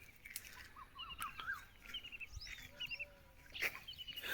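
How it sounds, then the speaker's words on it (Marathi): An Asian koel calls on a farm among other birds, with faint, scattered whistles and chirps repeating at a distance over a quiet outdoor background. "कोकिळेचा आवाज बघा कसं छान येतो."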